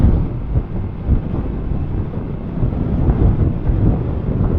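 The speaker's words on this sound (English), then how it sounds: "Bit windy." Steady, rumbling wind noise buffets the microphone throughout while riding a Honda Super Cub C125 in Machida, Tokyo, loud and low-pitched with gusty swells, and no voices.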